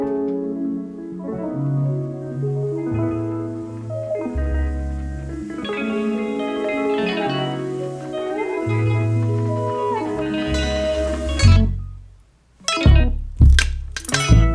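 An electronic song plays with steady synth chords, a thumping low beat and a sung vocal line, ending in a few sharp, punchy hits after a brief drop.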